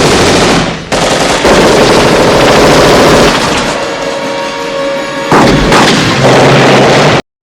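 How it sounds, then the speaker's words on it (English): Loud, dense gunfight from the action movie Die Hard 2, with rapid machine-gun bursts and heavy booming fire layered over a chaotic soundtrack, continuous and nearby with brief drops in intensity before cutting off abruptly. "The cavalry attacks and a huge ball-swinging gunfight ensues."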